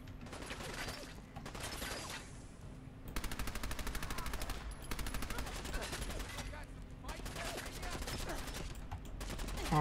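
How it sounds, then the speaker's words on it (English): Submachine gun fire in Fallout 4, loud rapid automatic bursts repeating across the stretch with brief gaps, set against a steady game soundscape; a voice talks faintly underneath. "Submachine gun it is."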